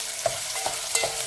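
Rice with onions, garlic, celery and bell peppers is stirred in a hot pot, a soft sizzle running under light scraping strokes of the spoon, with no voices.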